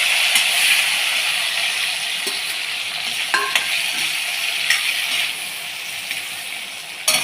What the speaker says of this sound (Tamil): நல்லா செவந்த உடனே இந்த எறாவை போடணும்.